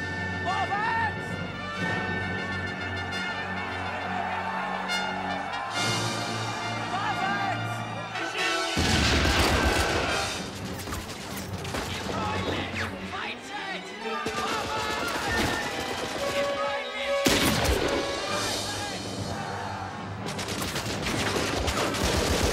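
Artillery bombardment from a First World War film set in Northern Italy in June 1918: heavy blasts burst out in several clusters, mixed with an orchestral score that plays throughout.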